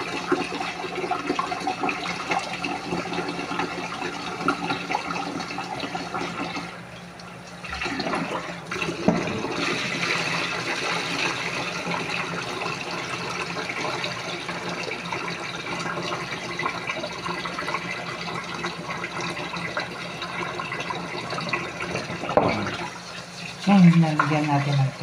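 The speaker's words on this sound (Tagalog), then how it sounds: "Ngayon, nalagyan natin ng tubig." Tap water runs into a pot of washed rice, a long continuous gush of filling liquid with brief pauses and a sharper splash near the end.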